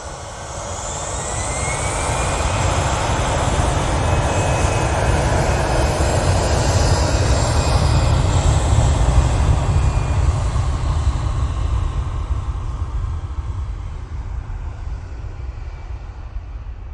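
A Eurowings airliner arriving from Dusseldorf at Manchester Airport, its broad jet roar swelling over a few seconds, holding loud and steady, then easing away, with no talk over it.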